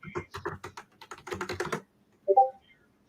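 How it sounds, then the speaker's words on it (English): Loud typing on a computer keyboard: a rapid burst of clattering keystrokes over a couple of seconds, then a pause and one sharper, louder keypress. "Sorry if that was loud typing."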